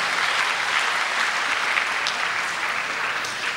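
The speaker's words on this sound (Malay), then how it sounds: "Mari kita beri tepukan gemuruh kepada PTPTN." Thunderous applause fills a ceremony hall at a PTPTN financing advance presentation event in Selangor, a dense, steady roar of many hands that holds evenly throughout without speech.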